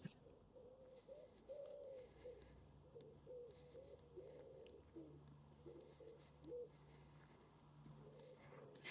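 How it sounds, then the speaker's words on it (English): A pigeon perched on a sign in the gardens of Sandringham House coos softly in repeated low, rolling phrases, faint and slightly distant over quiet outdoor ambience. "Look at that pigeon sitting on the sign over there"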